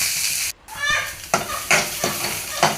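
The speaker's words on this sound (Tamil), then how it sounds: "இப்போ நம்ம நறுக்கி வச்சுருக்க வெங்காயம் கலரில் போட்டுக்கலாம்." Chopped onions frying in a pan with mustard seeds, a soft steady sizzle broken by several sharp scraping stirs at irregular intervals, close and moderately quiet.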